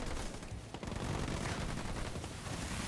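Faint, steady battle noise of gunfire from snipers in the video game Halo Wars 2, a continuous distant crackle of shots without voices.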